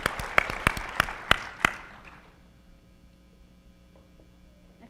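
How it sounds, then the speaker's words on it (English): A handful of sharp, spaced claps ring out for under two seconds, then fade into a low electrical hum with near silence. "Round of applause for Mo."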